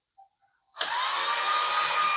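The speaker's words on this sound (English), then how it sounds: "Now we're going to drill it back." Black+Decker reviva 12V cordless drill starting after a couple of faint clicks, then a steady, loud, high motor whine held close and alone.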